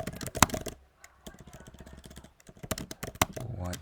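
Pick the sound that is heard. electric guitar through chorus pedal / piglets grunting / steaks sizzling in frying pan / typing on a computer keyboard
typing on a computer keyboard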